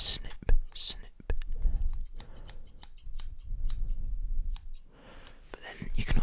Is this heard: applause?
no